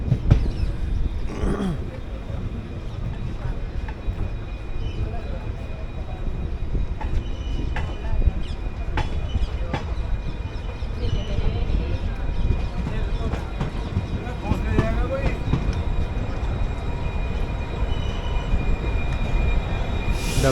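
Runicha Express passenger train hauled by a WDP diesel locomotive runs steadily, with a continuous heavy rumble of wheels on track, occasional clanks and faint squeals throughout.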